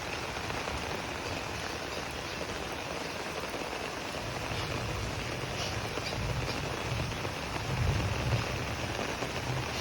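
Rain falls steadily on a village house, a dense, continuous patter and hiss of drops on surfaces, with soft low rumbles toward the end and no talking.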